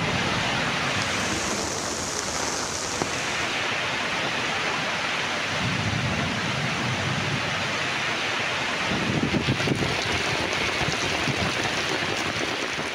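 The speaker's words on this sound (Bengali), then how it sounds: "শীতলতার পরশ নিয়ে অঝরে ঝরল বৃষ্টি।" Heavy rain pouring steadily during a hot-season break in Bangladesh, a dense continuous broadband wash with faint rumbling gusts, loud and unbroken throughout with no voices.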